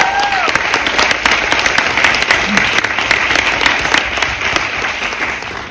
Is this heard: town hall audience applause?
yes